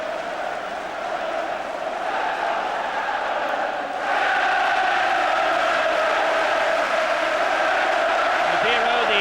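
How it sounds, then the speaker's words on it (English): Home fans at a 1997 Premier League match between Leeds United and Newcastle United cheer after a goal, a broad sustained crowd roar that swells louder midway, with a commentator talking over it. "that's got the home fans cheering"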